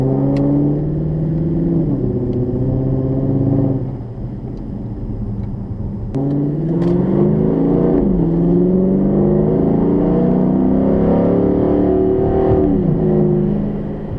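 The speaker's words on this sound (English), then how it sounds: "So let's drive down the road real quick" A turbocharged Datsun drives down the road, its engine loud and close. It revs up through the gears with a dip and shift partway, then a long sustained pull.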